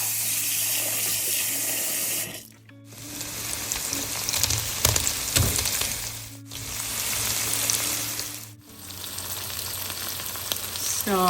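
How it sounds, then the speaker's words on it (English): Cold water running from a tap over cooked spaghetti in a strainer, a steady close rushing splash that twice breaks off briefly, with a faint stove sizzle behind it. "We're going to put some cold water onto our spaghetti to stop the cooking"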